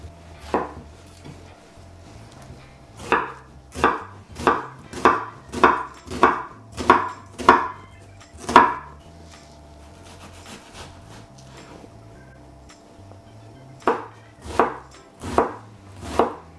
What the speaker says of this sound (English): In the meantime, we're going to mince the onion.